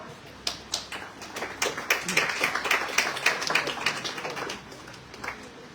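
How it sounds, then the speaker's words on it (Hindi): Audience clapping welcomes the next competitor to the stage at a school Hindi poetry recitation contest, a lively burst of many hands that swells and then tapers off. "तो जोरदार तालियों के साथ स्वागत करें हमारे अगले प्रतिभागी का"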